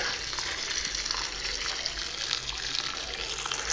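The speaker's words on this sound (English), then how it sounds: "either you can rinse them like this, just with pouring water in there" Tap water poured into a jar of sprouts fitted with drainage holes, heard as a steady, close rushing gush with splashy hiss that continues without a break.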